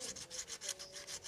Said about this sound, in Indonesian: kita amplas saja tapi secukupnya ya